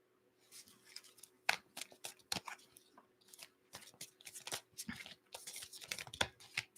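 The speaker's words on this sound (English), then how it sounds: "I don't know why I'm over here shuffling these cards." Tarot cards shuffled by hand in a series of quick, crisp riffles and flicks over several seconds, close and fairly quiet, with a faint steady hum underneath.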